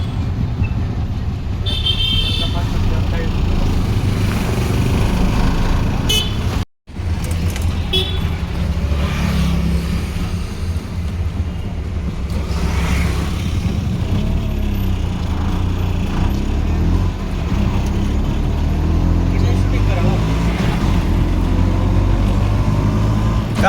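An LPG auto rickshaw engine runs steadily close by, a continuous low rumbling drone that cuts out for a moment before resuming, with a horn tooting near the start.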